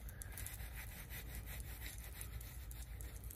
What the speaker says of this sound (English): I'm gonna rub this against the frontal so it can lift